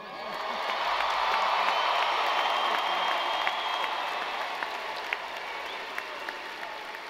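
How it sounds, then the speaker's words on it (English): University commencement audience gives another round of applause, a broad crowd roar of clapping and cheering that swells and holds steady, with occasional whoops, in a large hall. "Let's give them one more round of applause."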